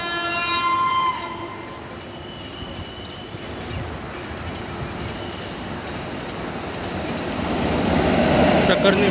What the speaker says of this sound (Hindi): Gwalior दाउंड express weekly train